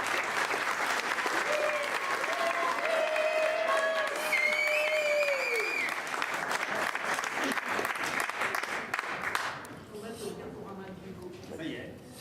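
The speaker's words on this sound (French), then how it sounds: "je pense qu'on peut l'applaudir une deuxième fois" A club audience applauds at a talk about staging shows, with loud, sustained clapping and some whistles and shouts on top. The applause dies down near the end as a voice begins to speak.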